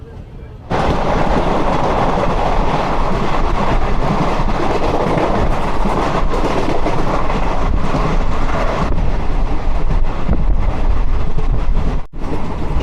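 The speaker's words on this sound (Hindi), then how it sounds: "बलिया से अभी खाली खाली चल रही है ट्रेन" Ballia–Sealdah Express passenger train running in India, a loud steady rumble with wheel clatter and wind buffeting the microphone, continuous from a close onboard position for most of the stretch.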